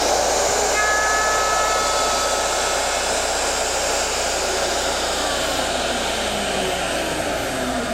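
A router cutting a dovetail in wood on a Porter Cable Omnijig with a guide bushing against the template, producing a loud, steady high-pitched whine that runs unbroken throughout.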